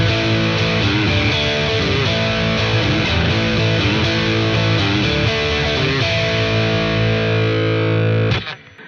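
Electric guitar played through a Boss Katana 100 1x12 combo amp on its full distortion setting, a loud continuous stream of heavily overdriven chords and notes that stops abruptly near the end.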